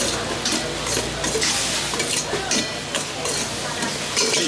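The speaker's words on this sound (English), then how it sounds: "you want to saute until the aroma actually came out" Ingredients for ayam penyet sautéing in a pan, a dense steady sizzle with bursts of stirring and scraping, close and continuous, with no talking.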